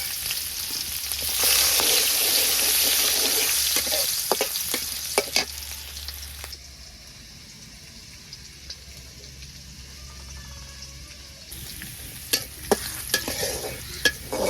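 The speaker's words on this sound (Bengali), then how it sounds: "কড়াইতে তেল দিয়ে দিই আর পেঁয়াজ কুচি দিয়ে দিই।" Chopped onion frying in oil in a wok as a vegetable curry gets started, a loud steady sizzle with stirring scrapes and clinks that drops to a quieter crackle midway, then brightens again near the end.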